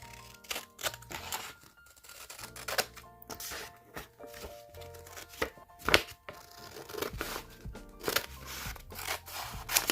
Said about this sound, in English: Then we're going to cut sides off.